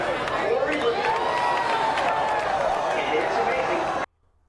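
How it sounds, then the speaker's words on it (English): Grandstand crowd clapping and cheering at a NASCAR race, a continuous broad roar of applause with chatter mixed in, ending abruptly into near silence. "Why is everyone clapping?"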